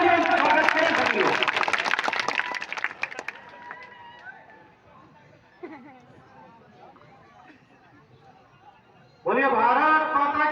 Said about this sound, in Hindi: आदरणीय राहुल भैया जी एक बार जोरदार तालियों से स्वागत करें सभी